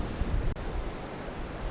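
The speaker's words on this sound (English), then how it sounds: "there are some nice big waves that are going right to the right of my scene" Big ocean waves breaking along the shore at Bundjalung National Park, a steady broadband roar of surf with wind across the microphone, continuous and fairly loud with no voices.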